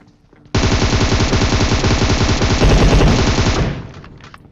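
Sustained loud automatic gunfire in the mobile battle royale game PUBG Mobile, a continuous rapid burst lasting about three seconds before tailing off into quieter echo.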